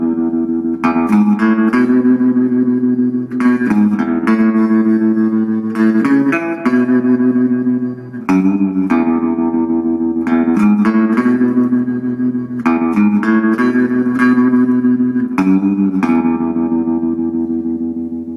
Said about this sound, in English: you can still get into a Gretsch and get that same great Gretsch sound